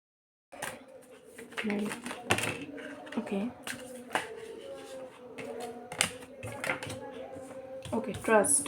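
Tarot cards shuffled and laid out during a pick-a-card reading, a run of close flicks and taps mixed with soft rustling while someone talks over them.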